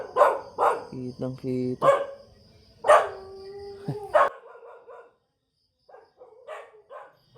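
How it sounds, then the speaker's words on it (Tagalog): Dog barks a few times at a distance, sharp yips in quick succession that ring out between bursts of close talk from a person outdoors. "Oh, may tumahol. May tumahol sa inyo. Ayan. Pinahulan tayo ng aso."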